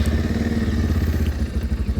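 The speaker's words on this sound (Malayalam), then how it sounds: "അത്യാവശ്യം നല്ല സ്മൂത്ത് ആയിട്ടുള്ളൊരു എഞ്ചിൻ നോട്ടാണ് ഈ ഒരു വാഹനത്തിൻ്റെ" A 2025 Bajaj Pulsar 150 Twin Disc motorcycle idles nearby with a smooth, steady, thumping engine note and a light mechanical clatter, heard alone and without talk.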